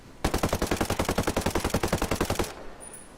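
An AK74 rifle in the shooter game Ghost Recon Breakpoint fires a rapid automatic burst of about two dozen evenly spaced, loud, close shots over a little more than two seconds, then cuts off abruptly to near silence.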